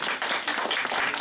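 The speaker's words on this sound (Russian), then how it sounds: "Аплодисменты этой даме" Audience clapping at a December 2010 concert, a short dense burst of many hands applauding steadily for a woman in the crowd, with no voices over it.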